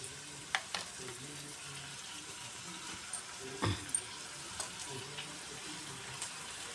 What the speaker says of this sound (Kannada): ಸ್ವಲ್ಪ ಅರಿಶಿನ ಈರುಳ್ಳಿ ಟೊಮೆಟೊ ಎಲ್ಲ ಎಣ್ಣೆ ಒಳಗನೆ ಸ್ವಲ್ಪ ಮೆತ್ತಗಾಗುತ್ತೆ ಅದು ಫ್ರೈ ಆಗಬೇಕು